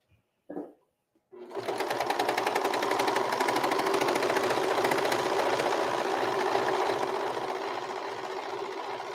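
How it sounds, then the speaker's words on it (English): A serger stitches apron fabric in a fast, steady mechanical whir that starts after a brief bump and runs on loudly and evenly to the end. "I could have just let the serger do the trimming as I went around"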